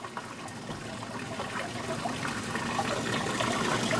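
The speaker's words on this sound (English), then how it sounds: "you can see a little eddy current right there flowing around" Water flows steadily around an eddy in a small model stream with a side tributary, a continuous soft trickling and rushing that swells slightly louder over a few seconds, with no talk.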